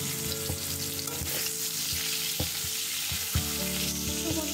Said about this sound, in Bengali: আলুটা একটু ভাজা করে নিচ্ছি